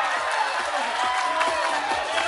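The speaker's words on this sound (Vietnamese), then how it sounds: "Vỗ tay nào quý vị ơi." Wedding guests clap together in a steady burst of applause, a dense crowd sound that holds evenly throughout with faint cheering mixed in.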